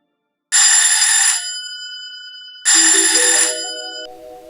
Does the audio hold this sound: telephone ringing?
yes